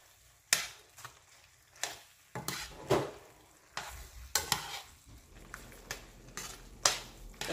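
Pasta being stirred into a jerk shrimp sauce in a pan, with repeated scraping strokes and soft wet slaps in an irregular rhythm, close and moderately quiet, without talk.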